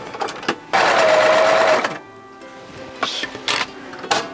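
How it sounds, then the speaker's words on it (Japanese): A four-thread overlock serger sews a gathered section of a wrap dress. It gives one loud, steady motor whir lasting about a second, followed by quieter handling clicks and fabric movement. "ここの印と印の間をロックミシンのギャザーメモリで縫っていきます"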